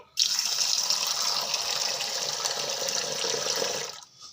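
Soaked little millet grains are washed in a bowl under running water, a steady close splashing rush lasting about four seconds before stopping.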